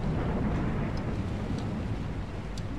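Thunder rolls through a stormy night in the horror game Pacify, a loud low rumble that lingers and slowly fades, joined by the hiss of rain and a few faint higher clicks.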